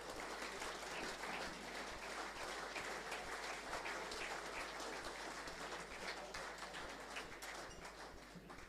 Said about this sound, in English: Please, a big round of applause for Ben Heaslip of Victor Harbour.